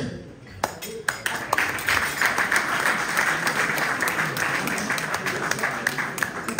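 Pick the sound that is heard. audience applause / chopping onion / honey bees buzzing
audience applause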